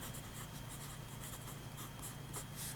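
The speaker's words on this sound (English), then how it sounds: "this is the first time putting pen to paper" A TWSBI GO fountain pen with a medium nib scratches across paper in quick continuous strokes, close and faint against a steady low background hiss, with no talking.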